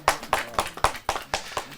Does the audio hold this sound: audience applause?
yes